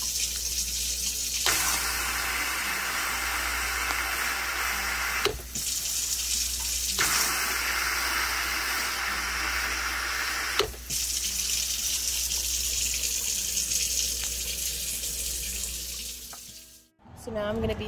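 Water runs steadily from a tap into a DIY fairy fountain basin that is being filled for a solar pump, making a continuous close gushing splash with brief breaks, under a low mains hum.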